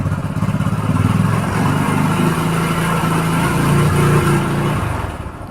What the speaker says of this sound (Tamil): இப்போ நான் ரேஸ் பண்ணுறேன், சார்ஜ் ஆகும் பாருங்கள்.